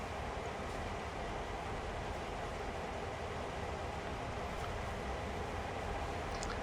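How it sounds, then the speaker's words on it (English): A moving train in the Train Sim World video game on a misty autumn evening rumbles steadily and continuously, with a broad, even roar that carries no talking. "I can't jump onto a moving train."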